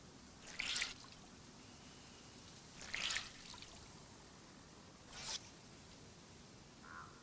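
Wet clothes wrung out in the video game DayZ give three short, faint splashy drip bursts spaced a couple of seconds apart over a quiet background.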